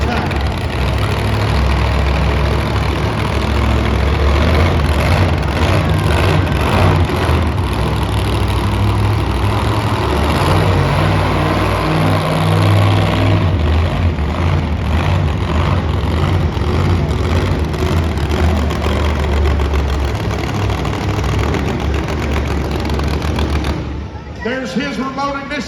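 Shark Attack monster truck engine idling loudly in an arena at a monster truck event in Dallas, a deep continuous rumble with an announcer talking over it and crowd noise, briefly dipping near the end.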